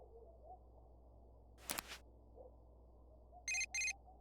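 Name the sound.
phone message notification in the video game Persona 4 Golden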